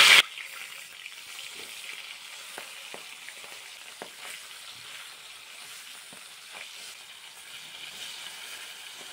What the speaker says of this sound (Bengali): আমি মাছগুলোকে সর্ষের তেলে ভেজে নেব।